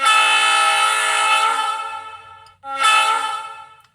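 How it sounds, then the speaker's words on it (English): A Scale Trains Rio Grande SD40T-2 Tunnel Motor model locomotive sounds its horn with a loud, bright chord. One long blast fades, then a second, shorter blast follows, both close and clear. "Love that horn."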